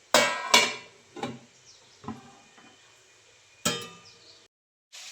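Metal lid set down on a cooking pot of pumpkin vegetable in a home kitchen, a couple of sharp clanks followed by lighter clinks and a final clank, close and fairly loud with quiet pauses between.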